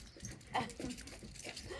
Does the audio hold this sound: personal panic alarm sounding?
no